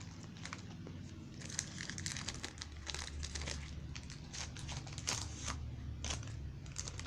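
Someone crumples and rips apart the packaging of a 2019 Topps WWE Road to WrestleMania trading card blaster pack, a close run of crinkling plastic and foil with quick tearing bursts.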